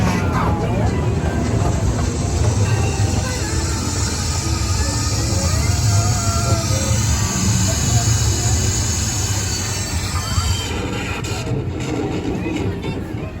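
Steady rumble of the Casey Jr. Circus Train ride at Disneyland rolling along its track, continuous and moderately loud, with faint voices mixed in.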